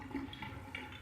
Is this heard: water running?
yes